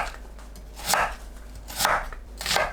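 Three crisp knife chops through radish on a cutting board, spaced about a second apart, close and distinct against a quiet background.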